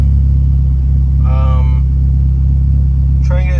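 A 1997 Mitsubishi Eclipse GSX with an idle issue drives along, its engine a loud, steady low rumble throughout, with two brief tonal whines near the start and end.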